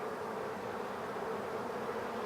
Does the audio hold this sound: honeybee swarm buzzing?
yes